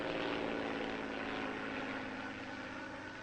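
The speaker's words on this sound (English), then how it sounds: "Here comes the plane." A propeller plane drones steadily overhead, a broad, continuous engine roar that holds loud and close before easing off slightly toward the end.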